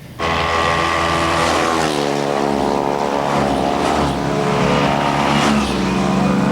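Racing cars driving hard on a track in Płock, a loud, steady, close engine roar with shifting pitch as the cars rev and pass, with no talk.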